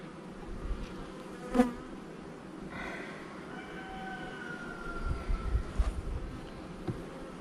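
Honeybees buzzing in an open hive during a frame-by-frame inspection: a steady, close, droning hum with a few brief clicks and knocks from handling the frames.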